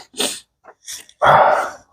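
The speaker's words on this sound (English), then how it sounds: "Oh, I want to sneeze." A woman gives one sudden sharp sneeze after a few short gasping breaths, close and loud, while crafting at home.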